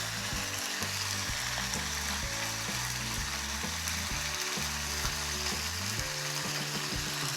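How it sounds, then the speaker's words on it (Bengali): Spice paste for soybean muitha frying in a pan, a dense and constant sizzle that fills the whole stretch at close range, with a low steady hum running underneath and no talk. "এরপর মশলাটাকে একটু কষিয়ে নেব"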